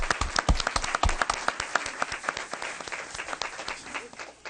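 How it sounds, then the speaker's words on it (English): A school board meeting audience applauds student athletes with brisk, close clapping, sharp individual claps standing out at first before blending into steady applause that gradually tapers. "let's give another round of applause to these excellent Heritage student athletes"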